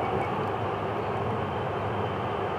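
FEC109 freight train rolls past with a steady broadband rumble and roar that holds at an even level, fairly distant and with no voices.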